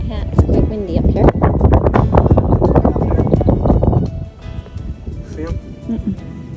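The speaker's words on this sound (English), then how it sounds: "It's quite windy up here." Strong wind buffets the microphone at a quiet nature preserve in The Villages, Florida, a loud, continuous rumbling roar that runs under a person's talking throughout.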